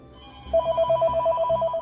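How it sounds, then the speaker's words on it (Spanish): A telephone rings in a repeated pattern of bright electronic bursts, steady and moderately loud, with no talking over it. "Pero justo en ese momento, el teléfono sonó."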